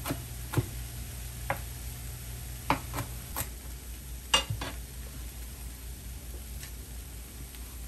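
Corn kernels cooking in a pan for a corn and kale salad, with a low steady sizzle and scattered sharp clicks and taps of a utensil stirring against the pan, no talking.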